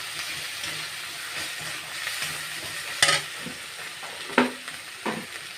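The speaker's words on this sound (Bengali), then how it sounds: "আমি রসুন বাটা দিলাম 1 চামচ মতো" Garlic paste frying in oil for a Bengali potato curry, with a steady close sizzle and a few sharper spatters and stirring scrapes, no voices.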